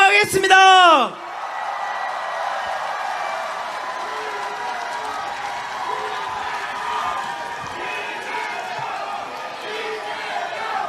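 A political rally crowd in Busan, awaiting candidate Lee Jae-myung's speech, answering with sustained applause and scattered cheers and shouts, a broad roar filling the space after a brief amplified voice at the start.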